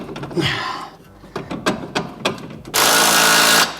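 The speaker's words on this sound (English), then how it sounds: "So we're just fastening the shock to the arm." Ratcheting and tool clicks ring out as a shock absorber bolt is fastened to the suspension arm of a BMW E92 M3, with short bursts of close mechanical noise ending in a louder, sustained whirr of a power tool.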